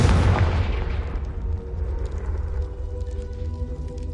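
A Confringo fire spell bursts in the video game Hogwarts Legacy: one loud booming explosion at the start, its rumble tailing off over about four seconds with faint crackling debris.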